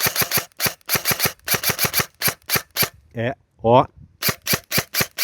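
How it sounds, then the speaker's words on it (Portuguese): Nova Neptune Marsoc airsoft rifle firing quick semi-automatic shots in close, sharp bursts, a brief pause with a spoken exclamation, then more rapid shots. "eu vou dar uma sequência rápida de disparos no semiautomático"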